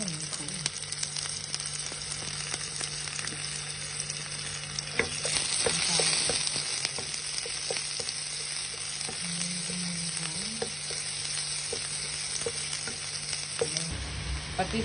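Garlic frying in a pan, with a continuous sizzle and frequent scraping and clicking as it is stirred, a steady background hum beneath it.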